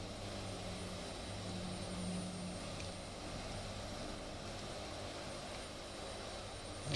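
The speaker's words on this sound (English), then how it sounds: "Get a nice little flyby from our buddy Coast." A Lockheed C-130 Hercules passes in a flight simulator game, a steady droning propeller and engine roar with a faint rising swell, continuous and even, with no voices.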